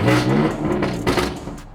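A BMW F80 M3 engine, just started, revs up and settles back down, a steady mechanical rumble with harmonic whine, close and fairly loud.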